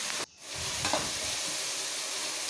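Brinjal and medium tomatoes frying together in a pan for vangibath, a steady close sizzle with light stirring scrapes after a brief drop near the start.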